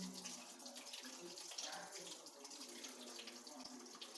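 Water poured over flattened rice (aval) in a bowl to rinse it, a steady, faint splashing trickle that runs for several seconds without speech.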